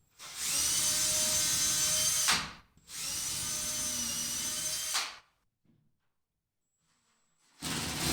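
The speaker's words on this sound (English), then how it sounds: "1/8 inch drill bit and drill a pilot hole for these leg screws" A power drill with a 1/8 inch bit bores pilot holes for leg screws in a garage, running loud and steady in two long bursts with a short pause, then a silence before a third burst starts.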